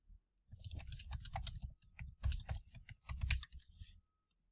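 Rapid clicking of typing on a computer keyboard while entering text into messaging CRM software, in uneven bursts of close, crisp keystrokes with short pauses between, no voices.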